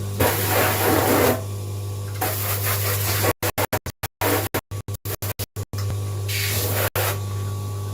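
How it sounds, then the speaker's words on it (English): A misting bottle sprays disinfectant in a grooming salon in long continuous hissing bursts, loud and close, with choppy dropouts partway through and a steady background hum. "That's my disinfectant spray, by the way."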